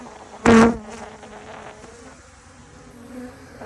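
A loud burst of Africanized bees buzzing erupts briefly during a shed-floor bee removal in southern Arizona, then fades into a softer, lingering insect drone.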